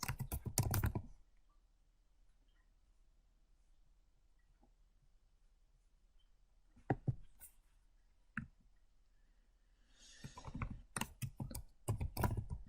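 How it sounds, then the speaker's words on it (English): Quick bursts of typing on a computer keyboard, clicking at the start, then scattered single taps, and a fast flurry of keystrokes near the end, close and clear in an otherwise quiet room. "Maybe I'll just type it in because we know it's Action Center."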